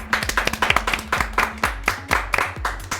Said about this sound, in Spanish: Así es que, aplausos.